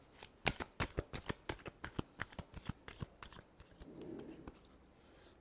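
Tarot cards are shuffled by hand in a rapid series of crisp riffling flicks, close and fairly quiet, then a softer rustle as the deck settles.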